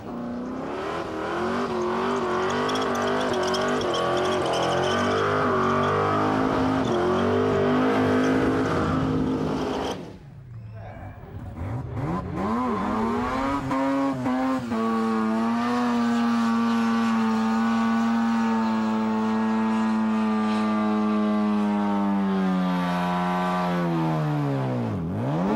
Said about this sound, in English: Pulls the car around, gives himself some room. Another 360